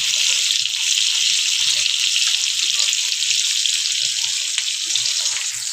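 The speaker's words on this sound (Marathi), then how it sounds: "मच्छीचं तेल होतं त्याच्यामध्ये फ्राय करत आहे." Onion and garlic frying in fish oil in a pan: a loud, steady hiss of sizzling holds throughout, close up, with soft faint clinks underneath and no talking.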